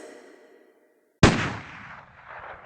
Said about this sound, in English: A single gunshot can be heard, and everyone stops in their tracks.